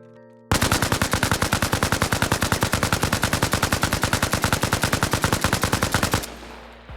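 A Sammy machine gun with a drum magazine fires one long sustained burst in Arma Reforger, rapid evenly spaced loud shots for about six seconds before cutting off, with no talking.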